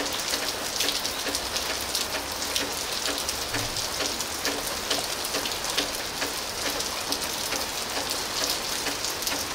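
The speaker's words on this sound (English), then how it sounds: "rain for you" Steady rain pattering on a hard surface, dense and continuous throughout, with scattered individual drops ticking close by and no voices.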